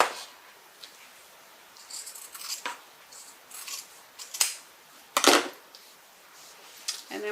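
Scissors trim fabric for a tote bag pocket in a quiet room, giving a series of soft, close snips at uneven intervals, with one sharper cut near the end.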